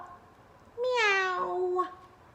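A reader's voice imitates a cat's meow in a read-aloud story, one drawn-out, pitch-bending meow lasting about a second, clear and close, with no other talk.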